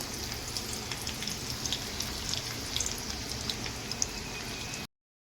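Garlic sizzles and crackles in hot oil for a tempering, cooking a Konkan wild-vegetable bharangi dish. A steady close frying hiss with scattered pops and spits runs throughout and cuts off abruptly near the end.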